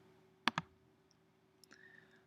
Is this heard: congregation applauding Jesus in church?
no